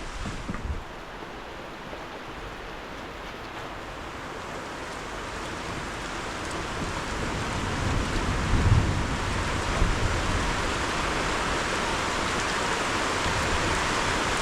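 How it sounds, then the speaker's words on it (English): Dense, steady hiss of heavy rainfall pours down continuously, loud and broadband, swelling slightly midway, with no talking. "it's raining cats and dogs"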